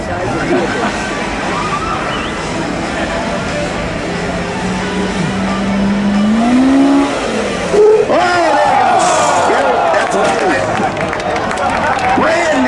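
Brand-new all-wheel-drive Polaris RZR side-by-side engines warming up outdoors on a course, a steady, fairly loud idle and rumble whose pitch rises and swells near the end, with background noise throughout.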